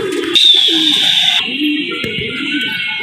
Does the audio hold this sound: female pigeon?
yes